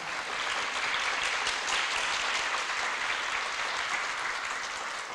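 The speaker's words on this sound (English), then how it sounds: "Let's please give them a round of applause." Sustained, dense applause from an evening community audience at a cyber safety event, steady and loud throughout with no voices standing out.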